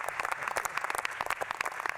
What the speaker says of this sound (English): How about a round of applause for Secretary Chao?